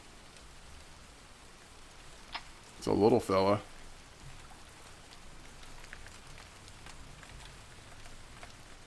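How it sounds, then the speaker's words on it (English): Rain in the fishing game The Fisher Online, a faint steady patter with scattered drop ticks running throughout, with someone briefly talking near the middle. "I love this rain."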